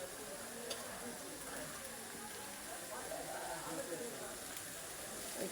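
Food being stirred in a frying pan gives a steady, low sizzle with soft scraping, quiet and continuous, and a voice can be heard faintly beneath it.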